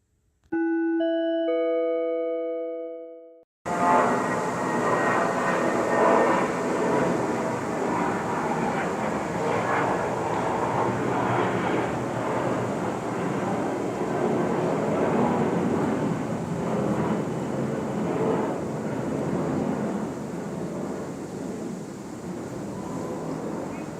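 An aircraft from Ontario International Airport passes over apartments, a steady broad roar that swells and slowly fades over many seconds, preceded by a short chime tone.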